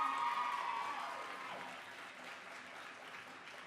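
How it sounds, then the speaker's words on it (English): Applause from the audience at a spring nursing recognition ceremony, a dense clapping wash that is loudest at the start and gradually thins and fades over a few seconds, with no talk over it. "Give them a round of applause, please."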